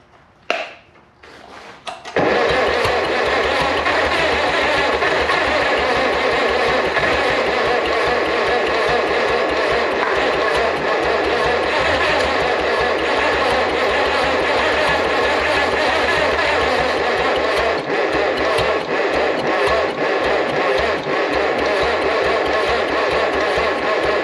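After a brief cranking, a 1951 Farmall Cub tractor that sat for 15 years, given ether through its updraft carburetor, fires up and keeps running with a loud, steady engine drone.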